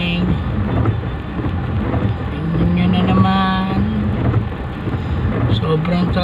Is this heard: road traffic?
yes